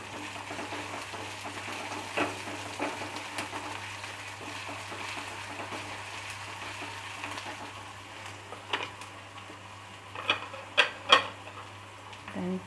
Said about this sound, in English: Now I am putting the chopped ginger.